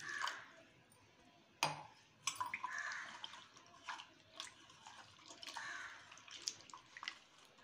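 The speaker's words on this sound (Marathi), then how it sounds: "आता मी साधा पाणी टाकून 2-3 वेळा धुवून काढते." Dried fish is rinsed in plain water in a kitchen, with quiet splashing, trickling and scattered drips, plus a few sharper sloshes as the water is poured and swirled.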